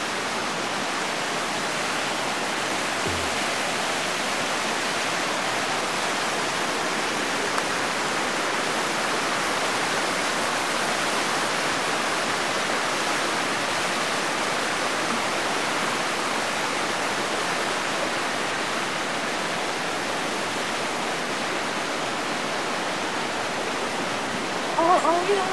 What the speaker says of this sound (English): Get some shots of the river.